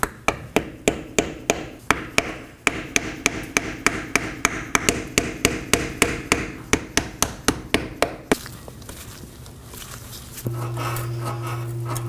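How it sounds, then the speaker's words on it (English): A hammer strikes a flat blade screwdriver against the rear axle inner seal of a 2018-2024 Chevrolet Equinox, sharp metallic blows in a rapid, steady series, close and loud, then a shift to a humming tone. "Now I'll be using a flat blade screwdriver and a hammer to break the seal on the axle seal."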